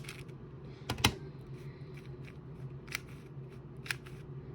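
A YJ MGC 4x4 speedcube turned by hand, giving a few sharp plastic clicks and clacks, one louder burst near the start and later scattered snaps, quiet and close over a low steady room hum.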